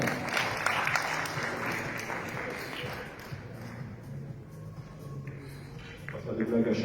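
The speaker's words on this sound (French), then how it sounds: "on va applaudir messieurs Poirier et Mauclair" Modest applause for two billiards players at a championship round presentation, fairly quiet clapping mixed with room murmur and talk that thins out midway, then a brief lift at the end.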